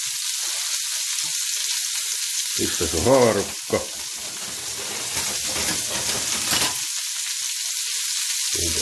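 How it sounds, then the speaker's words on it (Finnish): Thick steaks frying in a hot pan, giving a loud, constant hiss and crackle of spattering fat, with clatter from a utensil partway through and a brief spoken question over the sizzle. "Rasva lentää tätä paikkaa."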